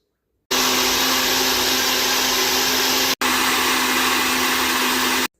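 A countertop blender runs steadily on blueberries and milk, a loud continuous whir with a brief cut-out partway through before it starts again, with no talking over it.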